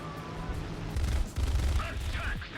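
Guns on an F-82E aircraft firing in War Thunder air battles, a dense, continuous rattling burst under steady engine roar, loud and close, with a brief gap midway before the firing resumes.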